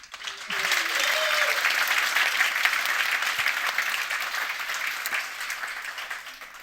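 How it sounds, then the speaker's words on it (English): Audience at the Agile World 2024 conference applauding a speaker as she is welcomed to the stage: a dense, steady roar of many hands clapping, loud and sustained throughout, with a faint voice or two in the mix. "A roaring applause, please, for Céline Schillinger."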